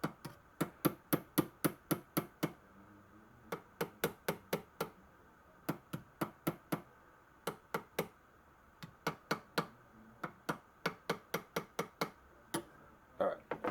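A small ball peen hammer taps metal in quick bursts of sharp, close strikes, pausing briefly between each run of blows.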